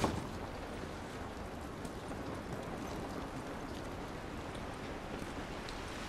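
Steady rain falls in The Last of Us, a dense continuous hiss of drops with no voices, even and unbroken throughout.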